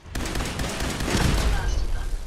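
Dense bursts of rapid gunfire from a Fallout 4 firefight crackle nonstop and loud, layered over constant game noise, with a brief gap right at the start.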